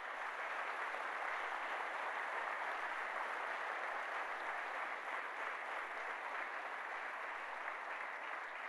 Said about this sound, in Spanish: Denle un fuerte aplauso a Jesús por eso